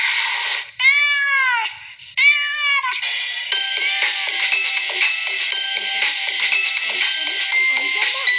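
Two clear, drawn-out cat meows, close and loud, followed by a rapid run of shorter, higher mewing calls.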